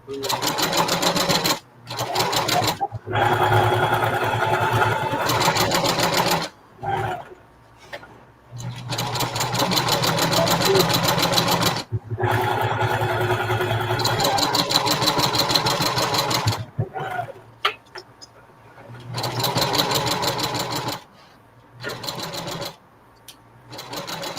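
A sewing machine stitches a reversible bucket hat in loud bursts broken by short pauses, with people talking over and between the runs.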